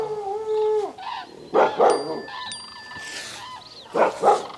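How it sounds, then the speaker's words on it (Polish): A dog outdoors on a frosty morning gives a short whine, then several sharp barks and yips in uneven bursts, fairly close and loud. "nie szczekaj, nie szczekaj"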